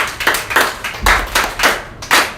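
Group of children in an English class clapping their hands in about seven close, loud, rhythmic bursts of claps.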